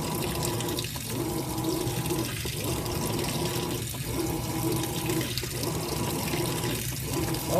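A Whirlpool Cabrio top-load washer fills with water, a steady close-up rush and splash that runs continuously throughout, with faint rhythmic dips every second or so as the drum moves.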